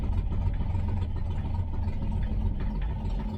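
A Toyota FJ40 Land Cruiser engine, just restarted from cold on its carburetor, runs in a steady low rumbling idle without pause.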